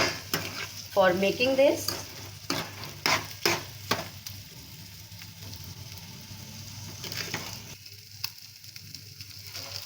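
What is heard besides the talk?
mixing and cooking food with turmeric in a pan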